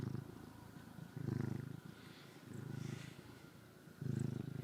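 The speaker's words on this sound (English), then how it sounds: "I don't know if the microphone's picking up, but she's purring." A lighter-coloured long-haired cat purrs softly and close, the low rumble swelling in rhythmic bursts with each breath, quiet and alone.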